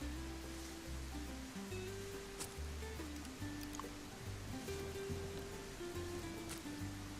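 Steady rain patters across the farming game Wild Roots, a continuous soft wash of drops under a looping low musical tone, constant and even throughout with no talking.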